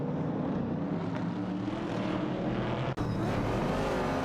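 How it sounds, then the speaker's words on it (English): Race cars, a Ford Falcon and a Ford Mustang Boss, drive in a racing video game, with a continuous engine drone and a brief sharp break near the end. "Both are driving Fords, with MYST149 in a Ford Falcon and Niaib in a Ford Mustang Boss"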